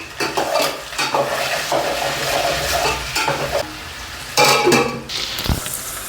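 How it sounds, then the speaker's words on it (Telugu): A vegetable biryani mixture fries in oil while a spoon scrapes and stirs it in the pan, giving a close sizzle broken by repeated metallic scraping and a few clanks. "ఇప్పుడు మొత్తాన్ని ఆయిల్ కొద్దిసేపు వేయించుకోండి అడుగు పట్టకుండా తిప్పుకుంటా ఉండండి"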